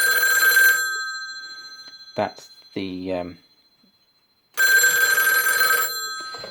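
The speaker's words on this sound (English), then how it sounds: "It's a long ring and a bit of a pause, and a long ring, rather than the British cadence" A loud telephone bell on an office PBX extension rings in a long continuous burst, American-style cadence, pauses while a person briefly speaks, then rings again in another long burst.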